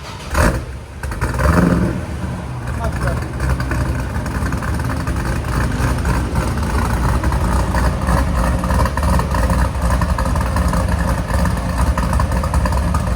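A cammed Chevy Corvette Z06 with a 7.0L V8, long-tube headers and Corsa exhaust idles steadily and loud up close, its lumpy rumble continuous after a brief blip at the start, with no talking.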